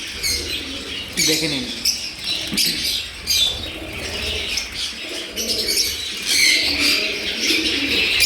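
Indian fantail pigeons coo softly with occasional wing flaps, close by, while someone talks over them.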